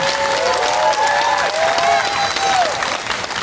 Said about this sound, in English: One more round of applause for Pastor Kim.